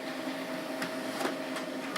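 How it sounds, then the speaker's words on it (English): A printer printing a page of Post-it note tabs, a steady mechanical whir with a few brief clicks and feed sounds, close and moderately loud. "There it goes into the printer,"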